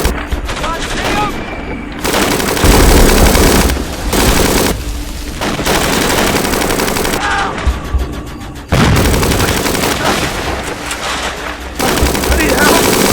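Machine gun fire in the Kokoda VR video game crackles in loud, sustained bursts broken by brief pauses, close and dense, with shouting voices mixed in.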